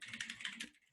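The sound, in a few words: typing on a computer keyboard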